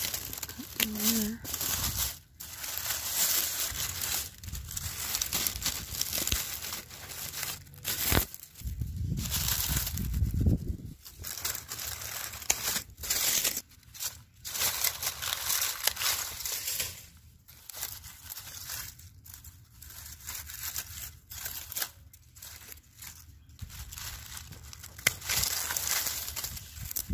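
Cutting through a tangle of vinca around peony stems during spring pruning gives repeated crinkling, rustling snips and leafy crunching up close, heard over and between steady talking.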